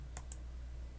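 Two quick, crisp mouse clicks in close succession with Ctrl held in After Effects CC 2020, faint over a low steady hum.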